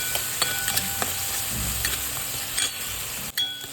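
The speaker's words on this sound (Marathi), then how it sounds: "मस्त याला तेल सुटेपर्यंत फ्राय करून घेऊया." Masala of tomato with turmeric and salt sizzling in oil in a pan, a spoon stirring and tapping the metal in short bursts over a constant hiss, close by with no voices.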